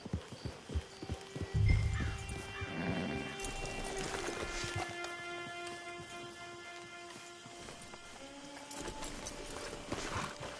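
Horses whinny and snort over a clatter of hooves at a camp in the video game Red Dead Redemption 2, with light ambient outdoor noise and a faint musical tone running underneath.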